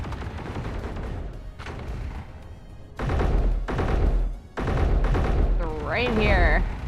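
Gunfire and explosions from a video game shooting fight, loud bursts in several dense blocks with a rising electronic whine near the end, under voices talking.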